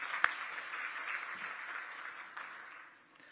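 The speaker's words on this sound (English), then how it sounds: "can we give ourselves and our esteemed guests a round of applause?" A fairly faint, distant-sounding patter of audience applause fills the hall at a women's professional association strategic plan launch, holding steady for a few seconds before tapering off, with no one speaking.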